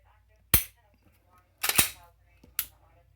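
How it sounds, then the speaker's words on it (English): A 9mm PSA Dagger pistol is dry fired three times, giving three sharp, close metallic clicks spaced about a second apart in an otherwise quiet room. "when you dry fire the pistol. And I'll demonstrate it if you can see it."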